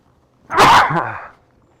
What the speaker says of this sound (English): There's going to be some sneezes coming out here, just so you know.